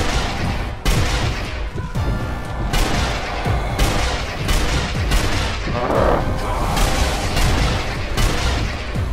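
Sniper rifle gunfire in Zombie Army Trilogy, a string of loud, sharp cracks and booming reports spread across the stretch amid dense game noise, with no talking.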